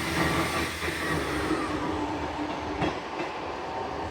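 Class 158 two-car diesel train at Carlisle station, a loud steady rumble with clattering wheel and rail noise throughout and faint squeals, heard close by with no talk.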